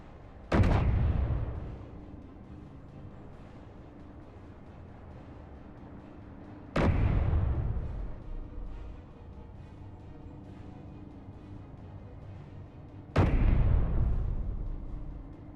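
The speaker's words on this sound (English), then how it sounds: "Maybe the autocannon can hit it." Three heavy autocannon shots from the Space Engineers survival game, each a sharp loud blast with a long rumbling decay, spaced about six seconds apart over a low steady background hum.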